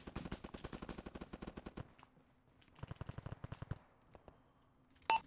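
Automatic gunfire in the video game Arma 3, two rapid bursts of many shots at moderate distance, the first long and the second shorter, separated by a pause.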